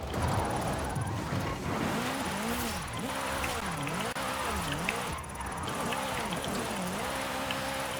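A Polaris RZR side-by-side drifts in Forza Horizon 5, its engine note rising and falling in repeated swells as the throttle is worked and the rear wheels spin, steady and close throughout.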